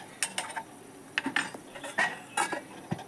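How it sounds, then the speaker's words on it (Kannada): Dishes and pots are washed by hand, with a run of sharp metallic clinks and knocks of utensils against cookware, close and irregular, and no talking. "ಅದರೊಟ್ಟಿಗೆ ನಾನು ಪಾತ್ರೆ ಕೂಡ ರಪ್ರಪ ಅಂತ ತೊಳೆಯುವ ಅಂತ."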